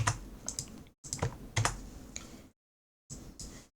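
Typing on a computer keyboard while writing JavaScript code, quick bursts of clicking keystrokes close by, separated by short silent pauses.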